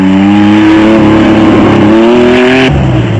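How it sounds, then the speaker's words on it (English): Porsche-powered Chenoweth off-road race car driving at an off-road race in Mafikeng, South Africa, a loud steady engine drone with rising pitch as it accelerates, then a gear change near the end, very close. "Brothers Lawrence and Harold Duplessis were on their customary charge in the newly liveried Porsche-powered Chenoweth"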